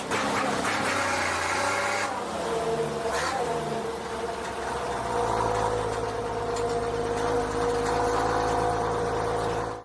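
A Ford D1210 truck's roughly 6-litre naturally aspirated diesel engine runs close by, a loud, steady, throbbing rumble that shifts in tone partway through as the revs change.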